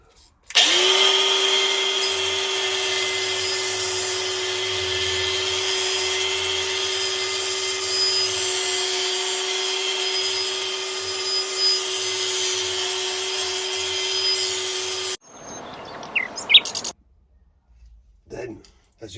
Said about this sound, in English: all we're looking to do is work our flap disc back and forth